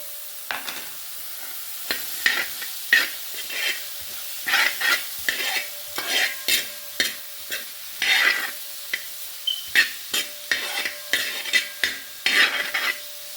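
Three chopped onions fry in a pan for a fish and ash gourd curry, a soft steady sizzle broken by repeated scraping stirs of a spoon at an uneven rhythm, close and fairly loud with no talk.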